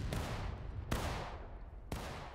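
Musket shots in the Civil War video game War of Rights, three sharp, loud cracks spaced about a second apart over a steady battlefield din.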